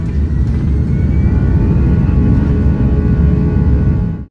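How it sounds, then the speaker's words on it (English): Airbus A340 airliner taking off on a westbound flight from Suriname, heard from inside the cabin as a loud, steady engine roar with a deep rumble that holds strong for several seconds, no talking. "the A340 powered up and lumbered into the air for our 9-hour flight westbound"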